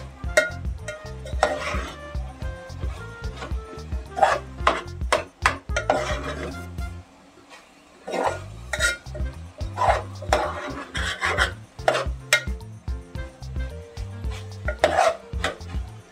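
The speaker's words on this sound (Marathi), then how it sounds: "आता हे सगळं हलवून घेऊया." A spoon stirs coconut rice in a metal pot, scraping and clinking against the sides in a steady, irregular rhythm up close, with a short pause partway through.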